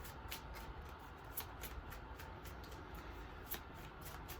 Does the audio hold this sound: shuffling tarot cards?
yes